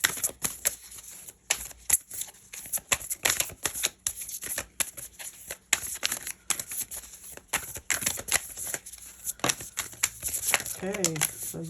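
Tarot cards being shuffled give off a run of quick, close, papery riffling bursts and flutters in irregular clusters, loud and crisp against a quiet room.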